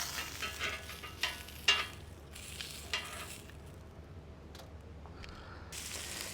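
Lamb chops sizzle in oil on a griddle while a utensil spreads the oil around, giving close scraping strokes and clatter over a bed of frying hiss that eases off and then returns.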